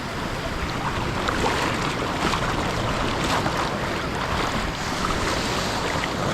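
Rough sea waves wash against a Philippine shoreline during shore casting, a steady, loud roar of surf mixed with gusting wind buffeting the microphone, with no talk.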